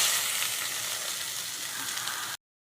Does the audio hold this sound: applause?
no